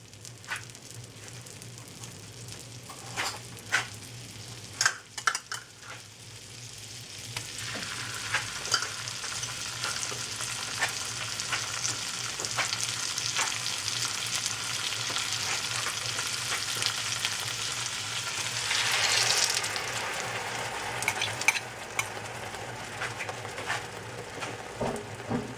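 Garlic paste and tomato puree fry in olive oil and butter in a pan, a steady sizzle that grows louder after a few seconds, broken by occasional stirring knocks and a brief surge of hissing later on.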